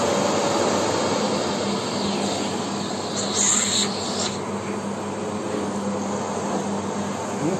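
A Delta Lux DL-0836 vacuum cleaner runs at maximum power with a steady, loud, airy roar that holds unbroken throughout, with no voices.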